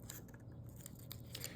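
Printable sticker paper is peeled off a Cricut cutting mat, producing a quiet, crackly tearing rasp in short uneven bursts over about a second and a half.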